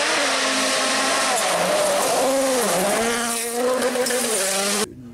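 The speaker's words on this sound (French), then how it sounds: "Sebastian Vettel has already gained a place on Sergio Perez as they race now down towards turn 2 and the first braking zone" Formula 1 race cars scream past on track in a TV broadcast feed, high engine whines rising and falling through gear changes, loud and close, cutting off abruptly at the end.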